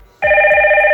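Hikvision door intercom call ringing, a sudden loud steady electronic tone with a strong buzzing pulse that starts abruptly after a short silence and continues unbroken.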